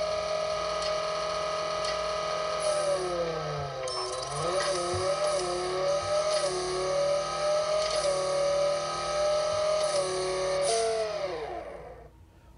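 A Ford GT race car engine in Racing Rivals holds a steady high-pitched whine that climbs through several gear changes, loud and continuous, then cuts off abruptly near the end of the run.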